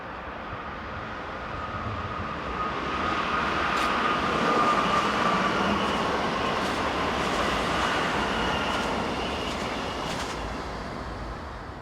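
Two Swiss locomotives, numbers 081 and 111, haul a train off the Aarau line toward Zurich, a steady rolling rumble that swells through the middle and fades slightly at the end, with faint high rail squeal.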